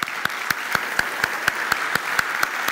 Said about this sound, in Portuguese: Zé Carlos, recebê-lo com uma salva de palmas.